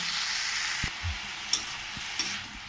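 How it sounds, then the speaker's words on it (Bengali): Drumstick flowers fry in a pan with a constant broadband sizzle, while a few soft spoon knocks mark the stirring. "ভালো করে ভাজতে ভাজতে কিছু রস ছাড়বে"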